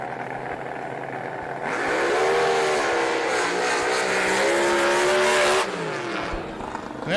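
A top alcohol hydro drag boat, Kent Price's Black Dragon, at an SDBA drag boat race in El Reno. Its engine bursts into a loud, sustained high-pitched scream that climbs in pitch for about four seconds before cutting off abruptly.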